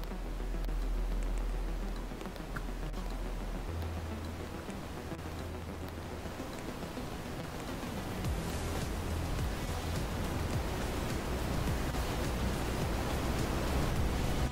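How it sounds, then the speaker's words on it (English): Rushing tsunami water in the Roblox game Natural Disaster Survival, a loud, steady broadband wash like heavy rain or surf, continuous and roaring throughout with a deep low rumble underneath. "Oh no, a tsunami."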